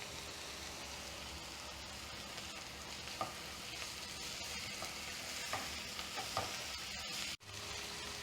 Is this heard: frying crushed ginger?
yes